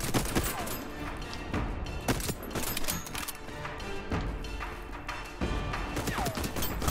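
Enemy gunfire in the video game Voidtrain crackles in rapid bursts of shots and sharp impacts, dense and continuous, with a few heavier booms among them, fairly close and loud, with no speech.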